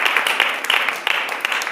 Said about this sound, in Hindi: क्या आप ताली बजा सकते हैं?